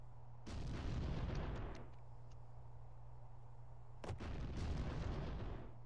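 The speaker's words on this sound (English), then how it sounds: "It's just explosions" Two bursts of heavy, rumbling explosions, each sustained for about a second and a half, separated by a steady low hum.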